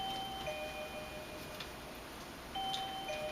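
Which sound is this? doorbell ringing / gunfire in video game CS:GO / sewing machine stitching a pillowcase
doorbell ringing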